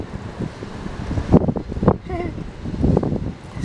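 Gusty outdoor wind buffets a microphone with a low, rumbling roar that swells and fades for several seconds, while faint fragments of a voice come through underneath.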